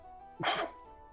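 A single short, close sneeze bursts out in a quiet room during a tabletop roleplaying session, with a faint hum in the background.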